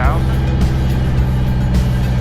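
Light aircraft piston engine running at elevated rpm for a magneto check on the ground, a loud, steady, close rumbling drone with low harmonic buzz and no pauses.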